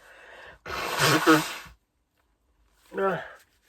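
A loud, breathy sneeze-like burst from a person with a nosebleed, followed after a pause by a shorter voiced exhalation, close to the listener.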